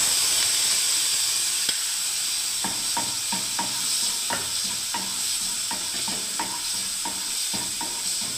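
A spice mix of salt, turmeric, cumin powder, coriander powder and dried chilli powder fries with garlic in hot oil, hissing steadily up close while a utensil scrapes the pan in repeated stirring strokes.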